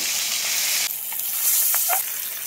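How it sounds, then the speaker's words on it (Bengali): Pabda fish sizzling in hot oil in a wok over a medium flame, with a steady close hiss and a few brief crackles and pops, no voices. "এখানে একটা কড়াই নিয়ে তেল বসিয়ে মাছগুলো দিয়ে দিলাম এক এক করে"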